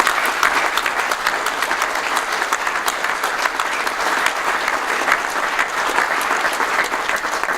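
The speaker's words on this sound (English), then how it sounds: "they all deserve a massive round of applause from all of us" A large audience at a business event gives the organisers a long, steady round of applause, dense and even from start to finish with no talk over it.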